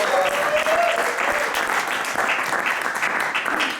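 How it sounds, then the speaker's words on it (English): A game show audience breaks into steady, dense applause for a contestant, a full crowd of clapping hands heard close and evenly for a few seconds, with no talking over it. "Let's give a round of applause to contestant number 1."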